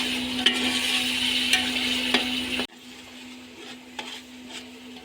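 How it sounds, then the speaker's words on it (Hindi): Chopped tomatoes sizzle in a pan with ginger, garlic, green and red chilli paste, a steady loud fry broken by sharp stirring clinks, then dropping abruptly to a quieter simmering sizzle with a few light scrapes. "ढाई सौ ग्राम कटे हुए टमाटर शामिल करेंगे इसमें"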